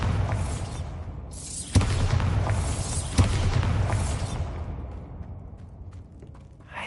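Bombarda spell blasts in the video game Hogwarts Legacy, two sharp booming impacts a second or so apart over a dense rumbling wash of game noise that fades toward the end.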